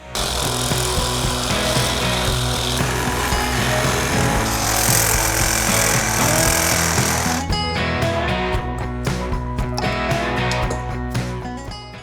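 Non-load-bearing wall framing is torn out during a home remodel, making a loud, continuous clatter of wood and power-tool grinding with scraping and knocking. It quiets partway through into scattered bangs and rattles, all close by.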